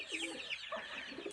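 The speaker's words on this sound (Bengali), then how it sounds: "এই যে কবুতর রানিং জোড়া" Pigeons coo softly nearby in a short burst of throaty, rolling calls, faint and without any talk.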